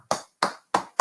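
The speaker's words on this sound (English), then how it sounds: "I'm gonna give you a stand-up clapping" A single person clapping hands, four sharp, close claps at an even rhythm about a third of a second apart, each one crisp and quickly decaying.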